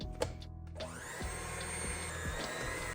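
Electric hand mixer starts up and runs steadily, whirring loudly as it beats powdered sugar and lemon juice into a frosting, with a few brief scraping knocks against the bowl.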